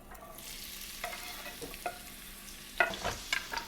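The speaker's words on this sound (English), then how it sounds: "First, I'm going to saute this onion" Onion sautéing in oil in a skillet gives off a soft, steady sizzle, with a few sharper crackles and utensil clicks toward the end, close by and fairly quiet.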